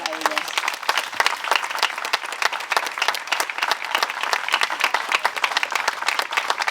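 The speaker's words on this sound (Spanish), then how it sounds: "pido también un aplauso muy grande para ellas" A large audience at a mural inauguration in honour of Concepción Arenal, at a Galician cultural centre, gives a long, even burst of loud, continuous clapping that holds steady from start to finish.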